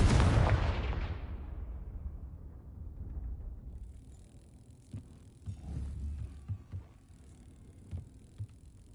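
A Confringo fire spell bursts in Hogwarts Legacy with a loud explosive boom that rolls off and decays over a few seconds, followed by quieter thuds and impacts.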